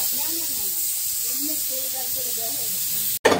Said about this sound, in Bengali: রসুন, পেঁয়াজ, পাঁচফোড়ন, জিরা আর সরিষা দিয়ে তেলে দিয়েছে।